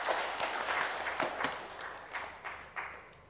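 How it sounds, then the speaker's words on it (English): An audience at a sustainability conference claps in scattered, uneven bursts rather than in unison. The claps are soft and sound fairly distant in a large hall, and they trail off gradually. "can you clap 3 times only? Clap 3 times."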